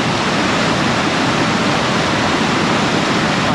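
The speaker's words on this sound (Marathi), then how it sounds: "लिटरली किती मोठं पाणी येतं बघा" A river in the Konkan, flooded after heavy monsoon rain, roars with a dense, continuous rush of water, loud and close and unbroken for the whole stretch, with no voices.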